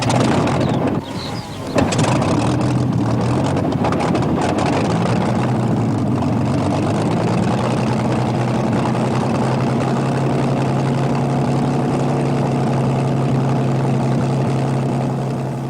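A Spitfire fighter's engine and propeller drone steadily and loudly, a sustained low heavy roar with a brief dip near the start before settling into a constant even tone.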